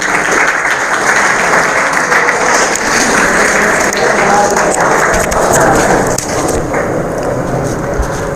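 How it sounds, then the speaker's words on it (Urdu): An audience at a gathering marking Youm-e-Siyah, the Black Day of 27 October, breaks into loud, dense applause that holds steady throughout, close and continuous with no speech over it. "آپ کی تالیوں کی گونج میں"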